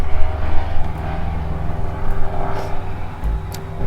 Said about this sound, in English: I'm not even gonna fight over the airplane.